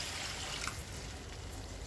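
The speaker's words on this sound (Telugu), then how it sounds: "ఇవంతా ఫ్రై అయిపోయిన తర్వాత ఇందులో వాటర్ పోసుకుందాం." Water being poured into a pan of fried spices (chilli powder, coriander powder, garam masala) for a stuffed brinjal curry: a soft, steady pouring hiss with a faint trickle, continuous and fairly quiet.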